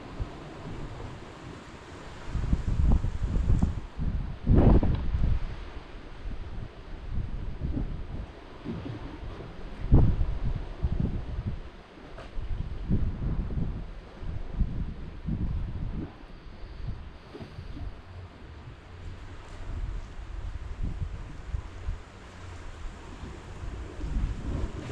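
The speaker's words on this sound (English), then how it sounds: "Getting gusty now." Gusty wind buffets the microphone at a seaside fishing spot, with irregular rumbling bursts and surges rising and falling over distant surf and no talking.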